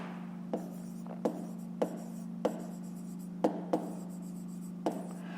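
A pen writes on paper while a fifth-grade maths exercise is worked out, producing quiet, close scratching strokes broken by about eight sharp taps as it touches down, over a steady low hum. No one speaks.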